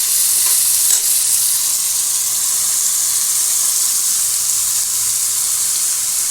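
Onions sautéing in a hot pan, a steady, loud, close sizzle and crackle that runs unbroken from start to finish, with no voices over it.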